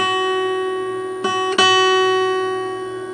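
A guitar chord played with two fingers rings out with sustained tones, then is strummed again twice in quick succession near the middle, with no talking.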